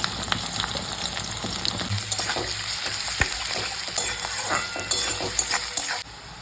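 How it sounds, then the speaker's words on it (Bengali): Chopped onions fry in hot oil for a spicy crab dish, with a steady, loud sizzle, stirring clatter, and occasional utensil taps throughout. "তেল গরম হয়ে গেছে এর মধ্যে আমি পেঁয়াজ কিছু কেটে দিয়ে দিচ্ছি"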